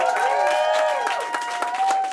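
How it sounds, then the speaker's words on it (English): A comedy-club audience at a standup show claps for Helen Proctor in a brief, moderate burst, with scattered hand claps and some crowd noise running alongside a tonal, voice-like sound. "Round of applause for Helen."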